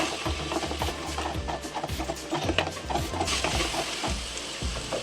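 Steady frying sizzle as masala paste with chili flakes sautés in oil, with repeated scraping and stirring of a spoon in a pan, close by, no voices.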